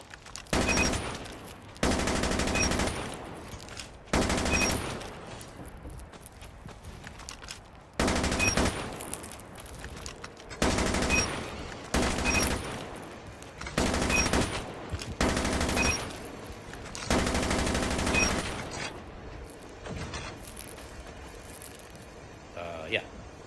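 Gunfire sprays from the hip in Call of Duty Mobile, about eight rapid automatic bursts of a second or two each, separated by short quieter gaps filled with game noise.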